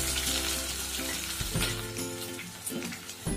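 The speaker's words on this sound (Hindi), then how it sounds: "प्याज फ्राई हो रही है" Onions frying in hot vegetable oil in a pot, a low constant sizzle with a few stirring knocks and scrapes, close and fairly quiet.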